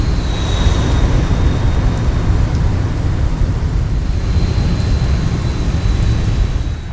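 Steady heavy rain pours across a rain-soaked 10,000-foot runway on Guam as a Boeing 737 (Zibo mod) rolls out in X-Plane 11, making a dense, unbroken hiss and rumble with no talking.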